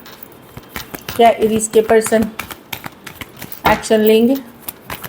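Tarot cards shuffled by hand give crisp, rapid riffling flutters and taps, close and clear, while someone talks over them in Hindi.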